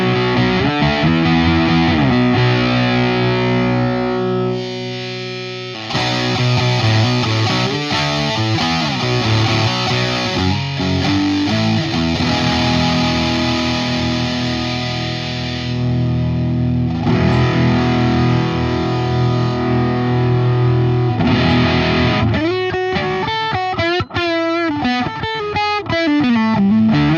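A Fuzz Imp Sender V fuzz pedal with its tone control turned down plays distorted, sustained electric guitar chords and riffs, loud and continuous throughout, ending in a run of bent, squealing notes.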